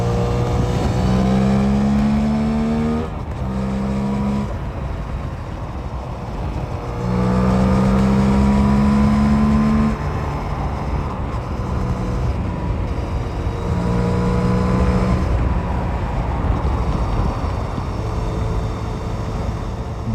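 A Suzuki GSX-8S motorcycle on a motorway test ride drones loud and steady, with rising engine tones as it pulls through the gears, underneath a constant rush of wind.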